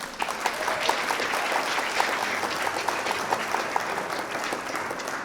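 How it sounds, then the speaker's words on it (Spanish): A church congregation applauding during a sermon, a dense, sustained wash of many hands clapping at steady loudness from start to finish. "Dale un aplauso al Señor"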